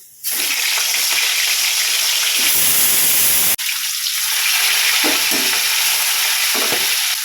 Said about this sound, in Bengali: তেলটা গরম হয়ে গেছে এবার মাছগুলোকে এক এক করে ভেজে নেব